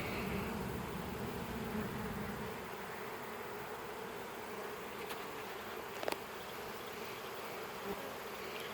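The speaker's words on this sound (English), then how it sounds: "those bees now will start going in there really quick" Honeybees at a hive, just put back after being dropped, make a dense, steady swarm buzz that holds close and constant. A couple of faint clicks surface partway through.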